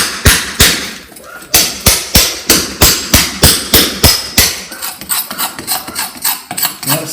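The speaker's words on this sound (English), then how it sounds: "I'll go over one more time with the chisel." Hammer striking a chisel to chase a groove into a stone wall for an electrical back box, a loud close series of evenly spaced sharp blows, alone without talk.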